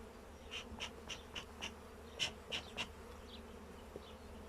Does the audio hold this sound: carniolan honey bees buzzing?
yes